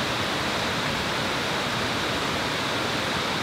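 Steady roar of a waterfall at a camping spot, Banyumala Waterfall, a dense broadband rush of falling water that stays constant and fairly loud throughout, with no voices over it.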